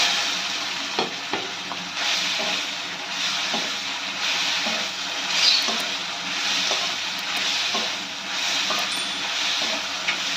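Oil rendered from hilsa fish fries in a pan with gathi kochu, a steady close sizzle and hiss broken by frequent scraping and stirring clicks from a spoon against the pan.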